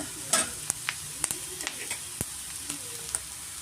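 Mushrooms frying in oil for pepper mushroom rice, a steady high sizzle broken by sharp clicks and scrapes of a spoon stirring the pan, close and fairly loud, with no talking.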